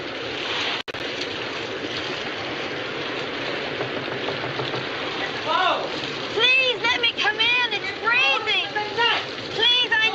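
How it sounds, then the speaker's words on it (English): Steady rain pouring down with a hissing wash, later joined by people talking over the downpour. "the storm had broken, and the rain had begun to fall"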